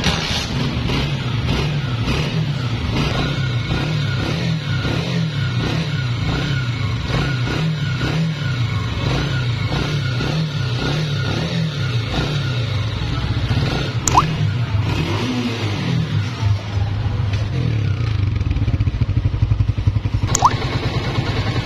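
A 2017 Honda CG125 motorcycle with 30,000 kilometres on it idles steadily with a rhythmic thumping, a noisy engine fault, and a couple of brief revs rise above the running engine.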